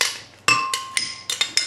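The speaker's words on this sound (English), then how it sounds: "take your blender cup again, and you're just gonna put in the jam" Metal spoon clinking against a blender cup as jam goes in for a strawberry milkshake: five or six sharp, ringing taps in quick succession, close and fairly loud, with no talking.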